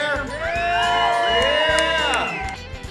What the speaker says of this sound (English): Can I get a little crowd noise over there?